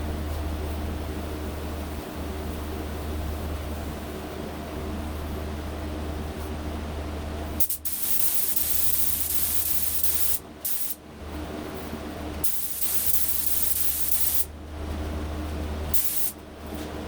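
A close, continuous hiss of a spray gun painting a Cobra car, running steadily with a few brief pauses where the spraying stops and restarts.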